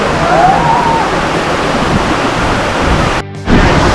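The Kanchan waterfall roars as loud, steady rushing water close by. The noise is constant and drops out only for a brief moment near the end.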